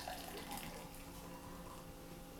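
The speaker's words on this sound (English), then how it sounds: "Let's pour it out." XEnergy energy drink poured from its container into a Pilsner glass, a steady close splashing, fizzing rush of liquid that runs continuously without a break.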